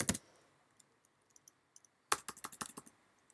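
Someone types a name into a computer keyboard to search a race registration system: a quick burst of clicks, then a few sparse keystrokes, then a faster run of close, crisp key taps with no talking.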